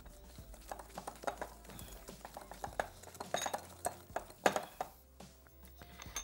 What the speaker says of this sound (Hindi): इसको हम मिक्स करेंगे खूब अच्छी तरीके से।